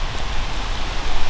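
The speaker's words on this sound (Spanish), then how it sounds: "Que llega uno, está lloviendo, chingón." Steady rain falling at a rural ranch, a loud, dense hiss of drops close by with no other sounds.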